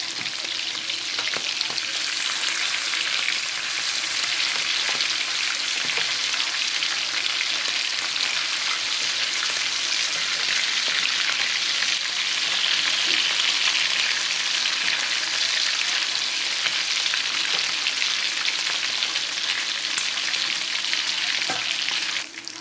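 Masala prawns frying in a hot pan give off a steady, close, loud sizzle with a dense crackle and occasional spattering pops, continuing without pause and with no talking.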